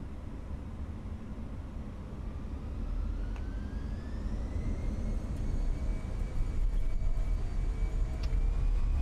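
Aircraft engines spooling up for takeoff on a long runway in a flight simulator, a steady broadband roar that builds gradually in loudness, with rising whine tones over a low rumble.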